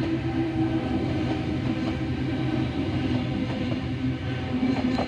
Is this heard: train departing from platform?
yes